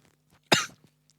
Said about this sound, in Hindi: खांसी हो रहा है ना